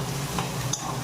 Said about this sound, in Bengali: ভালো করে নাড়তে থাকবো।